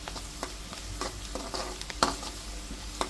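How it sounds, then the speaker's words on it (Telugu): Garlic chicken pieces fry in a pan, a steady sizzle broken by repeated scraping stirs and one louder clatter, no talk. "చూడండి, ఇలా మంచిగా ఫ్రై అవ్వాలి"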